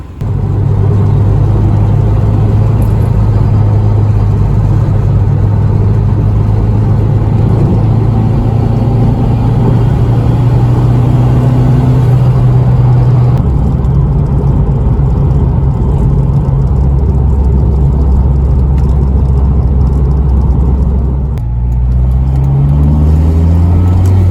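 A Honda RSX Type-S drives along a bumpy road, heard as a loud, constant engine and road drone from inside the car with low engine tones shifting pitch as it changes speed.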